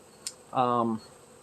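Honey bees in a sparsely populated hive, with a short buzz close by that swells for about half a second and then stops, after a faint brief click.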